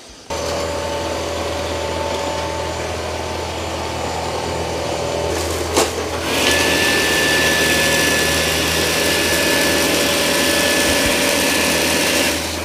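A Dyson 360 Vis Nav robot vacuum runs steadily in auto mode, then its motor whine steps up sharply midway as suction ramps up on heavy dirt, staying louder and higher afterward, close and without talk.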